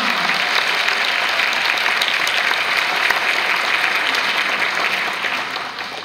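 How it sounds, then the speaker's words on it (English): An audience applauds fifth-grade graduates at an elementary school graduation ceremony, a steady roomful of clapping that holds evenly and then fades slightly toward the end. "let's give our fifth graders a big round of applause"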